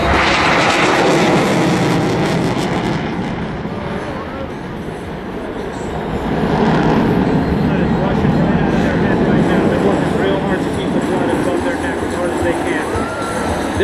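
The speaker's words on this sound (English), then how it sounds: "pull as hard as they can for the Hornet minimum radius turn" F/A-18F Super Hornet jet pulling a hard minimum radius turn at a beach air show, a loud sustained broadband roar that dips slightly mid-pass then swells again, with crowd chatter and commentary faintly underneath.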